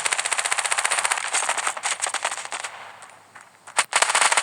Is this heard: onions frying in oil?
no